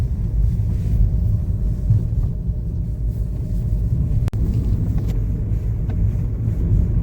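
A car cruises at around 70 along an open, flat valley road in Spiti, making a steady low engine and road rumble with a brief click partway through, with no talking.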